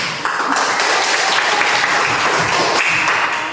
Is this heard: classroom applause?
yes